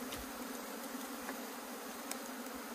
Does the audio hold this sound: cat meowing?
no